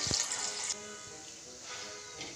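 Water splashes and pours briefly into a pot for steaming idli, a short gushing rush that quickly softens to a faint trickle.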